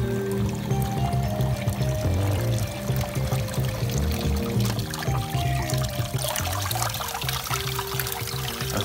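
A pump in a screen printing shop sucks water out of a tank, giving a loud, continuous gush and pour with a steady motor hum underneath. It runs without a break and no one speaks.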